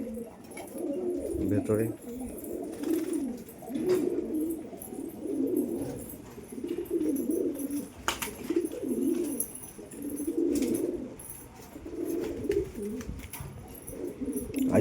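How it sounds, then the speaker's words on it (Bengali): A male pigeon coos repeatedly in a rhythmic series of low, throaty calls, close by, with a brief spoken word and small background noises. "ওই যে নর পায়রা একটা ডাকছে"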